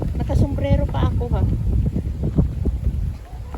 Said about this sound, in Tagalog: Sobrang lakas ng hangin, grabe